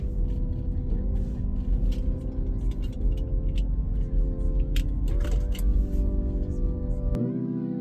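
Steady low engine drone and road rumble from inside a moving Tesla fitted with sound-dampening door trim, with occasional gear-like shifts in pitch and light rattles, continuous throughout.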